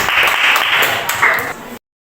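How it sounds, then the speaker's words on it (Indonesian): Applause from a classroom group fills the short stretch as a steady broadband patter, fairly loud and close, with a faint voice underneath, cutting off abruptly near the end. "Tepuk tangan untuk kelompok bullying."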